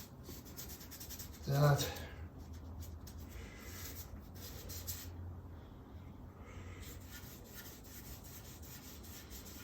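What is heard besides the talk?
rubbing Tru-Oil finish into wood by hand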